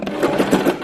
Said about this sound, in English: sew a straight stitch straight down the middle, sewing straight through the elastic that's inside to secure the scrunchie